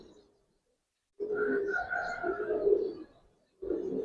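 Giribaz silver pigeons coo in soft, close throaty phrases, with a pause and then another coo starting.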